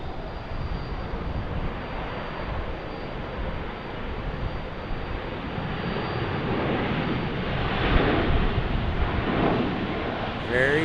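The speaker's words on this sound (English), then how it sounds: "Is this Arizona one coming back to us?" An airliner in the Arizona One special livery roars at Dallas Love Field, its engine noise loud and broad with wind buffeting, swelling slightly toward the end.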